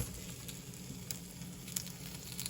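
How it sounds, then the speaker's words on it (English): Steady oily sizzling of pork potstickers frying in a pan, continuous and close, with small crackles and pops now and then. "So let's just get these guys in here. You can hear them sizzling."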